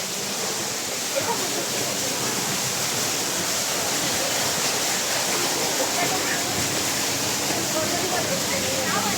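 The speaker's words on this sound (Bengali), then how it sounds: "এই দেখো ঝর্ণা।" A waterfall gives a continuous broadband roar that fills the scene at a steady level, with voices faintly present under the rushing water.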